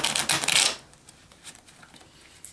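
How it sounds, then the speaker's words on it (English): A deck of playing cards is riffle shuffled up close: a dense, loud fluttering burst that lasts under a second, then a few soft taps and quiet handling. "Riffle shuffle cards as many times as they want."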